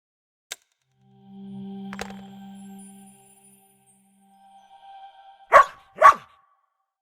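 Two sharp synthetic barks close together near the end, after a low electronic hum and a few clicks, in an otherwise quiet scene from the game Lost Lands 9: Stories of the First Brotherhood.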